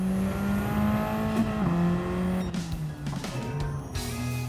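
A race car in Gran Turismo 7 laps Brands Hatch, its engine droning at high revs, then dropping in pitch under braking and downshifts before climbing again, with tires briefly squealing.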